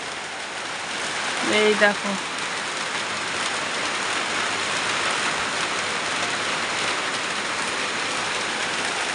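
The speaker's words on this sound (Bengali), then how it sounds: "এই যে দেখো আমাদের এখানে এই যে বৃষ্টি শুরু" Rain falls outdoors on an evening as a steady, even wash of hiss and patter, with a brief voice near the start.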